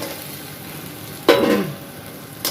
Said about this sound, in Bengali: এই পর্যায়ে আমি দিয়ে দেবো ভেজে রাখা মাছের মাথাগুলো।